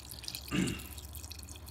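Water poured from a container over grit in a rock tumbler barrel, a brief splashing pour of under half a second that stands out against a quiet background.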